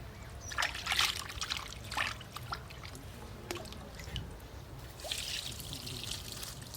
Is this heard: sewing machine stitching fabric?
no